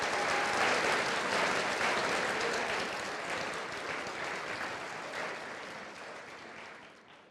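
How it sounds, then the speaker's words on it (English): A school audience gives sustained applause for senior English capstone projects at a community college evening event, a dense, steady roar of clapping that fades slightly toward the end, with no talk over it. "So a round of applause for our senior English capstones before we start."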